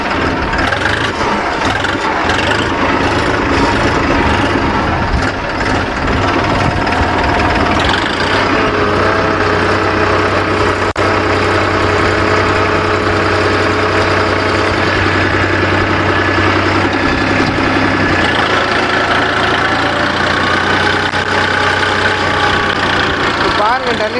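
A 9500 E 50 hp tractor engine runs steadily at close range while the tractor turns, its continuous mid-pitched diesel rumble shifting slightly in tone partway through, with someone talking over it.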